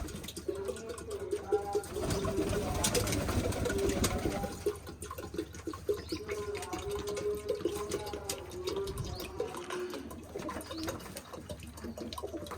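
Soft pigeon coos repeat on and off, with rustling, light splashing and handling noises close by as pigeons are fed and given water on a rainy day.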